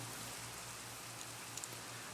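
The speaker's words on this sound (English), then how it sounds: "I'm sorry if you don't like the rain. I love the rain. I love the sounds of rain." Steady, soft rain falls in the video game Minecraft as an even hiss, with a faint low hum underneath and no voices.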